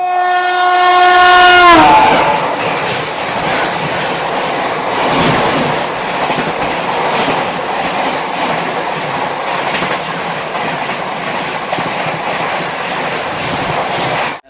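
The Ramayan Express passenger train sounds a loud, sustained horn that falls away after about two seconds. It is followed by a steady rumble and the rhythmic clatter of wheels on rails as the train keeps moving.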